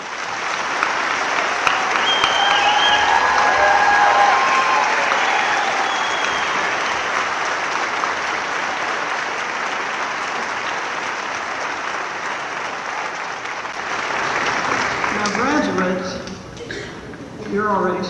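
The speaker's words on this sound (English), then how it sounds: "joining me, please, family and friends, in applauding the Rhodes State College graduating class of 2019" Sustained applause from family and friends for the graduating class at the Rhodes State College 2019 graduation ceremony, a broad, even roar of many hands that slowly eases, with a speaking voice rising over it at the end.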